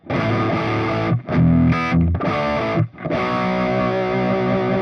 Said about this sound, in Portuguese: E se eu trouxer o ganho aqui mais para cima, eu vou ter um som mais nervosão.